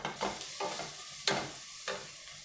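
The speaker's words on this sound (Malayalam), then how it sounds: "എന്നിട്ട് നന്നായിട്ട് ഒന്നും കൂടെ ഒന്ന് വഴറ്റിയെടുക്കാം കേട്ടോ" Soya chunks sautéed with salt in a pan, heard as a few sharp stirring scrapes against the pan over a soft frying sizzle, with no voices.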